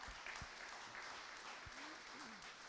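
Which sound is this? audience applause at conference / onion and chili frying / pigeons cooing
audience applause at conference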